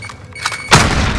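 A fragmentation grenade in Call of Duty Warzone explodes in a single loud, close boom that lingers briefly as a rumbling tail after a few quieter thumps.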